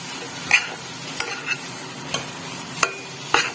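Potato filling with jaggery powder is stirred in a pan for potoler dorma, giving a few separate spatula scrapes and taps over a faint, steady sizzle.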